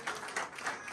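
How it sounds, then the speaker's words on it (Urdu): Church congregation at a Sunday sermon clapping in a steady rhythmic pattern, several strong beats under a second, faint and somewhat distant, no talk over it. "اس کے کلام کے لیے زوردار تالیاں چاہیے."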